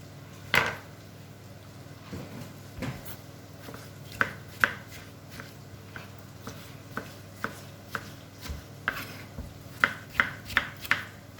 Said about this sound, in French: on va attaquer à couper, enfin même à hacher grossièrement nos tomates